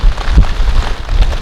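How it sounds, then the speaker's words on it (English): Heavy rain drumming on a tent while camping in strong wind, a dense, steady close patter with gusty low rumble underneath, no voices. "the rain is coming in pretty heavy right now"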